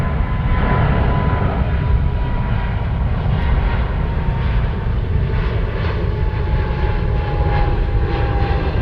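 An airplane drones overhead near Dockweiler Beach, a loud, continuous rumble of engine noise holding steady throughout with no voices.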